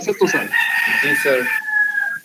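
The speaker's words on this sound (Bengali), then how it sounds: "হ্যাঁ, মোরগের ডাক শোনা যাচ্ছে।" A rooster crows during an online class, its long sustained call rising over students briefly answering the teacher.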